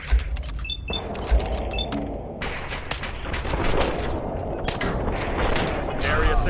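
Gunfire in the video game Fallout 4, bursts of shots and impacts over a busy battle din, loud and close, with several sharp hits and electronic beeps layered through the fight.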